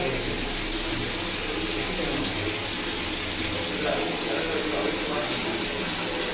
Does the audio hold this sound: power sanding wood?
no